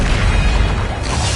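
A Bombarda explosion spell bursts in Hogwarts Legacy, a loud, dense blast of rumbling boom and broad crackling noise that sustains for over a second.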